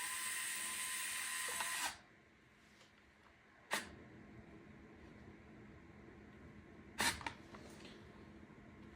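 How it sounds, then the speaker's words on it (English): Cordless screwdriver driving a screw into a Lasko FT30-8MBB 12-inch oscillating table fan whirs steadily for about two seconds and stops, followed by a couple of sharp, brief clicks in the quiet. "I'm going to get the screw on the bit with a screwdriver, and we'll go ahead and line it up"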